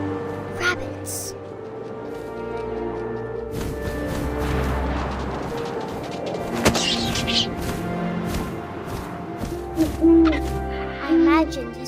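In the video game What Remains of Edith Finch, an owl gives a couple of short, low hoots near the end, under a narrator speaking throughout over wind and scattered game sounds.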